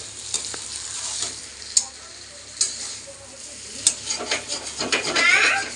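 Oil spattering in a pan while chicken kosha cooks, a steady sizzling hiss broken by several sharp pops and crackles, growing busier toward the end.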